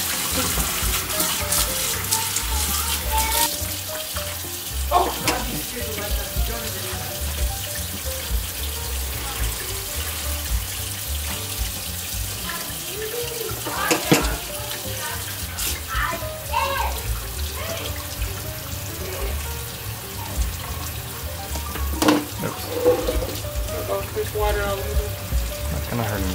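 Water from a tap or shower runs steadily during a family hair wash, splashing and pouring close by under intermittent talk.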